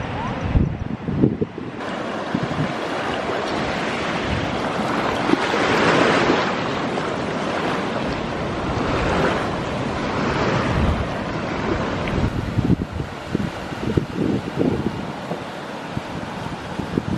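Waves roll and break continuously on a Nusa Penida beach, a broad wash of surf swelling and receding close by, with wind buffeting the microphone and faint voices in the background.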